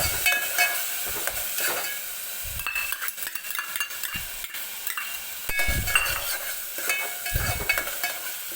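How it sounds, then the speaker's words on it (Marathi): Masala and tomato puree roasting in oil for a spicy chicken sukka and rassa, with repeated close scraping and stirring strokes in the pan over a soft continuous sizzle. "तर हे व्यवस्थित आपल्याला भाजून घ्यायचं आहे तेलामध्ये छान असं."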